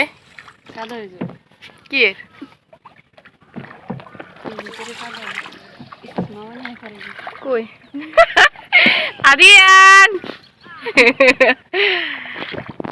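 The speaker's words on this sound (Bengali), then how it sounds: "নৌকা নিয়ে ঘুরতেছি" A small boat moving on water on a countryside outing, with faint water and hull sounds largely under close, lively conversation; voices dominate, with bursts of louder talk and some high, chirpy vocal sounds near the end.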